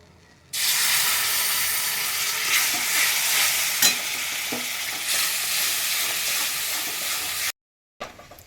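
Cashew, poppy seed, charmagaj and yogurt paste with green chilli hits a hot pan and fries with a loud, steady hiss and sizzle for about seven seconds, with a few stirring scrapes, then cuts off abruptly.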